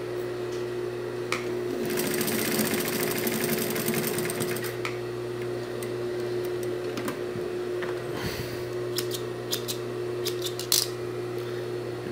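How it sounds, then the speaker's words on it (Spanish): A sewing machine fitted with a gathering presser foot hums steadily, with a busy stretch of rapid stitching early on and a few sharp clicks near the end, alone and close. "montamos el pie con el otro bloque y clavamos la aguja y cosemos."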